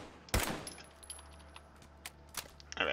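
Calibrated pistol in Fallout, semi-automatic and chambered for .38 ammo, fired in a few sharp separated shots. One loud crack comes first, then fainter cracks follow over a quiet background.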